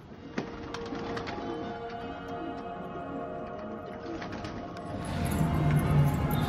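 Pigeons cooing in a dim feeding area, soft repeated low coos from several birds close by, with a few sharp clicks and a rising rumble of background noise toward the end.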